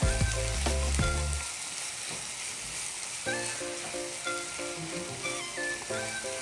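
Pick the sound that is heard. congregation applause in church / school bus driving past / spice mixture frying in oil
spice mixture frying in oil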